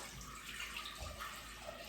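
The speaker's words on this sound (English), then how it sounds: "So let's pour chicken stock in a pot" Chicken stock poured from a 32-ounce mason jar into a pot, a quiet steady liquid splash and gurgle lasting about two seconds with no speech.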